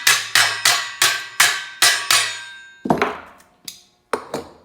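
Hammer blows tapping down the edge of a sheet metal bend with hand tools, a steady run of six sharp metallic strikes followed by a few lighter, spaced taps, close and loud with no talking.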